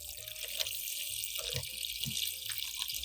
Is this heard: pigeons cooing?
no